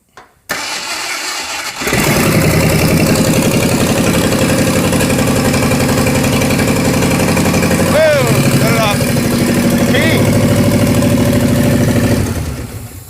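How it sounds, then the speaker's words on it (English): A 1968 Ford Mustang Mach 1 V8 cranks and fires up in a junkyard, then runs at a steady, loud, rough idle for about ten seconds before shutting off, with brief voices in the background. "we're gonna fire this thing up and hopefully tune it, make it run right"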